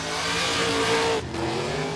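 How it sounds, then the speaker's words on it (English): A pickup truck does a burnout at a drag strip, a loud, continuous roar of revving engine and screeching tires close by, with a brief dip in pitch partway through. "There's a pedal in the burnout there."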